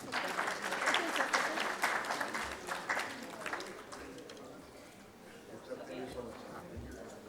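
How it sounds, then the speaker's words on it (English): An audience at a corporate conference session on organisational culture gives a round of applause, brisk clapping strongest early and gradually thinning, with a few stray claps near the end. "Can we have a round of applause, please?"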